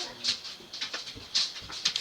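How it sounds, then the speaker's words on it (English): Several dogs whimper and yip excitedly in short high-pitched bursts, slightly distant, with no talking. "I can hear the dogs going cuckoo"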